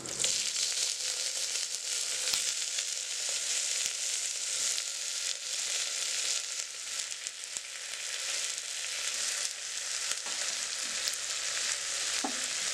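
Brinjal pieces sizzle steadily in oil in a pressure cooker pan for a brinjal and broad bean curry, a continuous close frying hiss with faint stirring scrapes, no voices.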